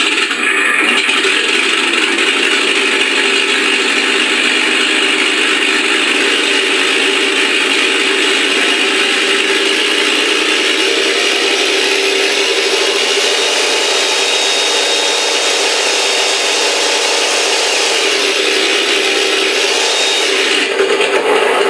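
A Mr.RCSounds V4 sound system in an FMS Ju-87 Stuka RC model plays its engine sound at full volume through two speakers, a loud, steady, buzzing mechanical drone that holds unbroken for over twenty seconds.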